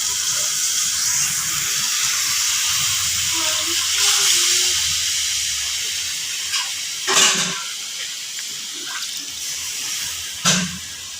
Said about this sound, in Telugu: కొంచెం నీళ్ళు వేసుకోవాలి.